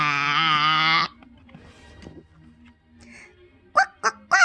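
A bird's quacking call used as a sound effect in a children's story: one long, loud, nasal honk, then a quiet stretch, then three short honking calls close together at the end.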